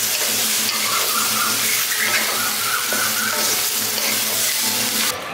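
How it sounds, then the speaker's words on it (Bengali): Vegetables sizzling and frying in a pan with tomato and ginger paste, a dense, steady crackle and hiss running continuously up close, with faint stirring. "আদা বাটাটা টমেটোটা দিয়ে ভালো করে একটু কষিয়ে নিয়েছি।"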